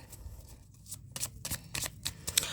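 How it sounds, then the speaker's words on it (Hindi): A deck of tarot cards is shuffled up close in a quiet room, with soft riffling bursts and sharp flicks in a quick, uneven rhythm, and no voice over it. "Last shuffle."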